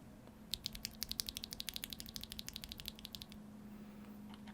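Stock, unlubricated Akko V3 Cream Yellow mechanical keyboard switches are typed on in a quick burst of about thirty crisp, evenly spaced clacks lasting under three seconds, close but soft against a faint background hum.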